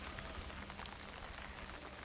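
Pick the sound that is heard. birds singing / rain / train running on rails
rain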